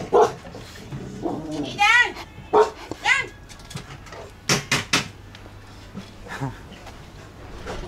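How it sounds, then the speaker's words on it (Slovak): A dog barks and yips up close in a busy settlement in Bangkok, Thailand, with short sharp bursts mixed among people talking nearby. "Oho, pes."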